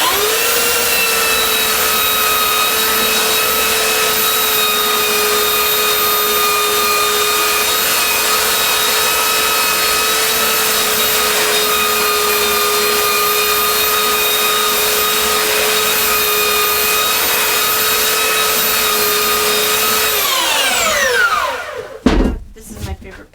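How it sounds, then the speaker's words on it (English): Power sander working a wooden sign with 50 grit paper, a loud, steady high-pitched whine with a constant hum that runs unbroken for about twenty seconds before spinning down and clattering as it's set aside. "I'm going to sand."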